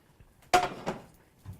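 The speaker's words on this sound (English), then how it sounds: "And we just need to get a frying pan." A frying pan is lifted out and handled, giving a sharp metallic clank followed by a softer knock and a faint scrape, close and brief in a quiet kitchen during meal prep.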